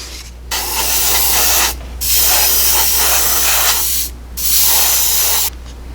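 Airbrush or spray can applying AK Interactive chrome paint to a scale model wheel, sounding as three loud, steady hissing bursts separated by brief pauses, close up with no talking.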